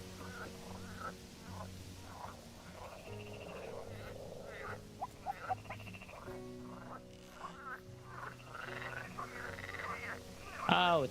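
Frog croaks from the survival game Nova Sequoia sound repeatedly in a rhythmic series over layered ambient game music, fairly close and steady throughout, with a sharper burst near the end.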